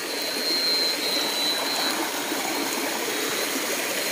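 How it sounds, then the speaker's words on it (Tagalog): A river stream rushes steadily and continuously, a loud, even wash of flowing water with no breaks or voices. "Bumaba po kami sa ilog."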